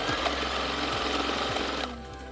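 A sewing machine stitches the long side of a three-layer pleated fabric face mask, a loud close mechanical whir with a rapid needle rhythm that stops near the end.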